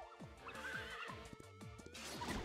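A horse in the Story of Seasons farming game whinnies loudly with a rising-and-falling call, accompanied by light clip-clop hoof steps, with no talking over it.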